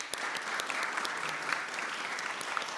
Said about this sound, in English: Big applause for the panel and for all the panelists